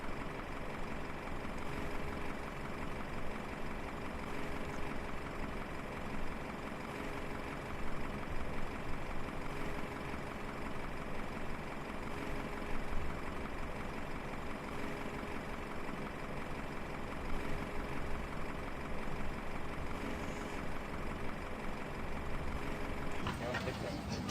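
A passenger bus idles on the apron during deboarding in Microsoft Flight Simulator with GSX ground services, a steady low engine drone running throughout with a brief sharper sound at the very end.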